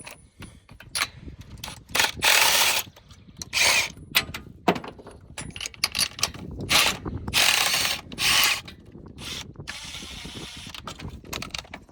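A small power tool removes spark plugs from a 1971 Ford, with repeated loud ratcheting, whirring bursts separated by short gaps.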